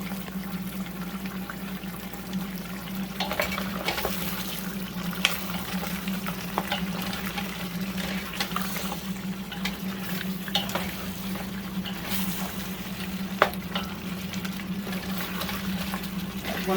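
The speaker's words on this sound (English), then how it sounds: "I'm gonna go ahead now and stir it." Liberian pumpkin stew being stirred in a pot, with a steady close sizzle of cooking and soft scraping strokes running throughout, no talking.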